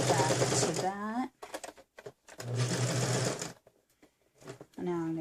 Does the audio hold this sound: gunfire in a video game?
no